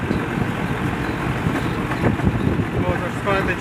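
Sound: wind

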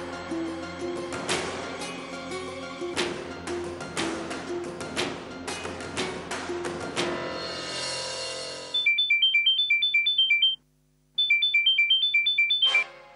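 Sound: phone ringtone ringing

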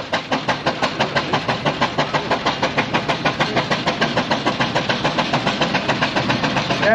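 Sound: steam ploughing engine clearing its tubes

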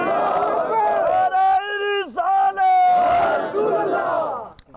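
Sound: crowd chanting Allahu Akbar in response to Naara-e-Takbeer

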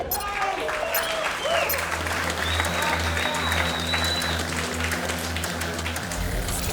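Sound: crowd applause at fist fight event

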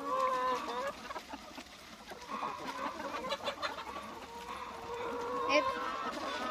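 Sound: chickens clucking

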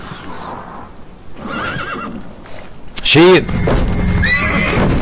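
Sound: horse neighing in The Godfather video game

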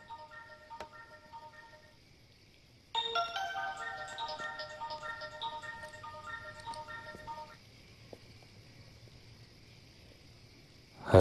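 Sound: mobile phone ringtone ringing

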